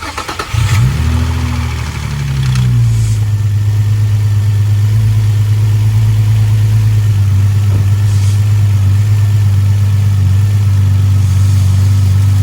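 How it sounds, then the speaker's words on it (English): An Infiniti G35 engine cranks and catches, then settles into a steady, loud idle close by, with its low hum running unbroken to the end and no one talking. "So I'm gonna go ahead and start it up and kind of keep an eye out on the motor"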